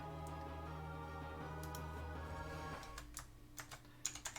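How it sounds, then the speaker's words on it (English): Keys clatter on a computer keyboard while working in Photoshop, a quick run of close, crisp taps growing sharper and more spaced toward the end over a low steady hum. "I'm typing in my Photoshop."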